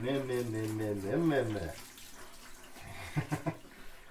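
Hands rinsed under a running kitchen tap while meat is being cut; a voice sounds at the start, then water runs steadily with a few light splashes near the end.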